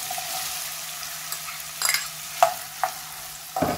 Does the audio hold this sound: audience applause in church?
no